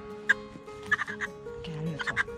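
A hen being held and handled, suffering from mites, gives several short clucks and squawks in irregular bursts at close range, with soft background noise between calls.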